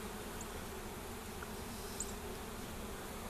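Honey bees from a swarmed hive hum steadily and densely during an open inspection, a continuous close buzz with occasional individual bees zipping past the microphone.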